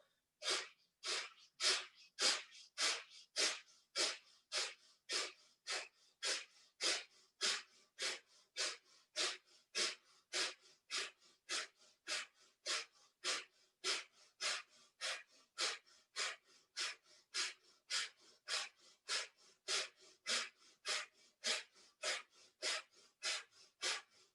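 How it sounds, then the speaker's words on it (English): Breath of fire during yoga practice: a long, even series of rapid, forceful nasal exhales, about two per second, each a sharp airy puff, close and steady with no talking. "you're breathing out through your nose quickly at the same time you're drawing your belly in"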